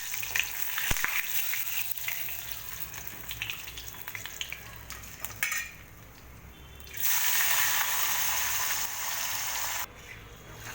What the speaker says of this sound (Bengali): বেগুনগুলো একটু তেলে ভেজে নেবো।